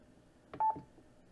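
A Yaesu FTM-500DR mobile radio gives a short electronic beep as its large dial is pressed, a single brief tone in a quiet room.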